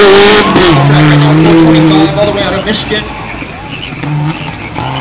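Rally car launching hard off the start line at a gravel stage of the Oregon Trail Rally, engine revving loud and rising in pitch before fading as it pulls away, with people talking over it close by.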